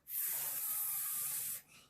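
A voice imitates blowing wind with a steady breathy 'fff' hiss, one sustained breath lasting over a second, close and fairly soft, with nobody talking.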